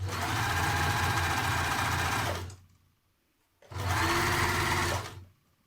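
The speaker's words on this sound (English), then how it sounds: "Finish your edges, so either zigzag or overlock." A sewing machine finishing fabric seam edges with zigzag or overlock stitching, two sustained runs of fast steady whirring and motor hum, close and clear, separated by a short pause.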